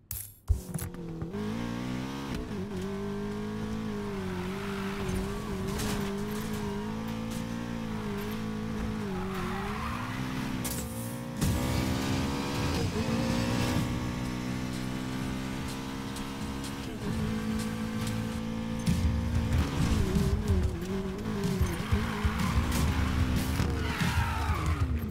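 Race cars in Need for Speed Payback roar and rev continuously, engines rising and falling as tires squeal and skid through turns, loud and sustained with gear shifts and bursts of acceleration throughout.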